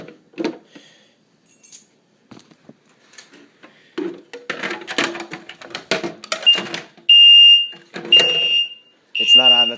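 A building fire alarm system is set off during a system test, with sirens sounding in loud, repeated bursts near the end, mixed with handling clatter, rustling and short bits of talk.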